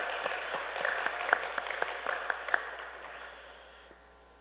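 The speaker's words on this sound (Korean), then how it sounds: "우리 모두에게 우리 한번 격려의 박수를 한번 하셨으면 좋겠습니다." A church congregation at an afternoon worship service gives a round of applause, moderately distant and steady clapping from many hands that gradually fades out.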